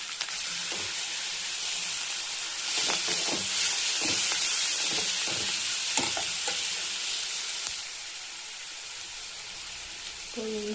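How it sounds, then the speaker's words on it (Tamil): Chopped onions with curry leaves and coriander frying in oil for a chicken kuzhambu sizzle steadily, with repeated scraping and clinking stirring strokes in the pan, the hiss swelling midway and then easing. "வெங்காயத்தையும் கட் பண்ணி வச்சுருந்த வெங்காயத்தையும் ஆட் பண்ணிக்கணும். கருவேப்பிலை மல்லியையும் மிக்ஸ் பண்ணிக்கணும்."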